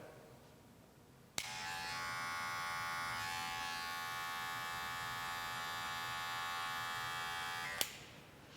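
A Wahl hair trimmer switches on with a click and buzzes steadily and close while cutting a line around an ear, then clicks off, with no voices.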